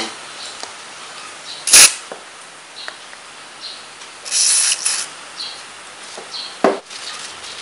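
A few short hissing bursts of cleaner sprayed onto a fishing reel, one sharp and close, another longer, separated by quiet handling noises.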